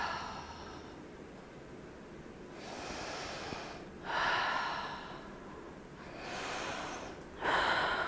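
A person seated in a chair doing a deep breathing exercise, with slow, drawn-out inhales and exhales that rise and fall in long cycles, close and audible with no talking.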